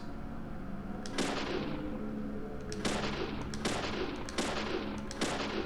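Gunfire in Deadly Premonition, a series of several sharp shots at irregular intervals, each with a decaying echo, loud over a steady background hum, with no talking.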